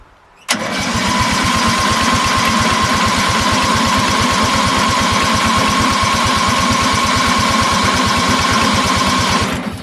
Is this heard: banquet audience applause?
no